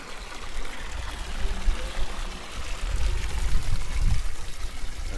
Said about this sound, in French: petite fontaine.